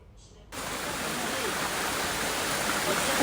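Waterfall at Emerald Pool in Krabi, a steady broadband rush of falling water that starts abruptly after a brief quieter moment and holds constant and fairly close, with no talking.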